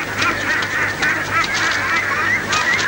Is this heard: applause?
no